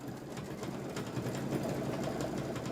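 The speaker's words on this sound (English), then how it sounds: "So I'll sew this onto this side." Sewing machine stitching fabric pieces together for a Kimberbell Pumpkins & Potions quilt project, a steady close mechanical whir with rapid needle ticking running continuously without talk.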